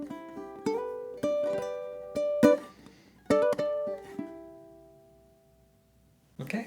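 Solo ukulele picking a slow blues pickup phrase, single plucked notes and a few ringing chord stabs spaced unevenly, close and quiet, decaying into near silence before one last soft strum.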